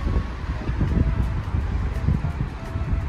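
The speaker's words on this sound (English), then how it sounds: "You can hear the wind going through the trees." Steady wind gusting through trees in a natural wooded area, a broad low rushing roar with rustling that swells and eases throughout, close and fairly loud with some microphone buffeting.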